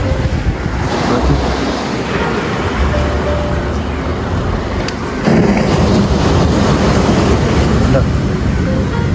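Surf rolls in continuously at Perumathura Muthalapozhi beach, a loud, steady wash of breaking waves mixed with heavy wind buffeting the microphone.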